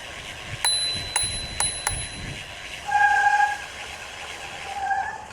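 A bicycle bell on a road ride gives four quick bright rings close by, followed by squealing brakes that screech twice over road and wind noise.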